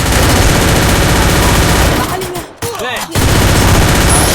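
Rapid gunfire bursts in the Free Fire video game, loud and dense, pausing briefly midway before the shooting resumes.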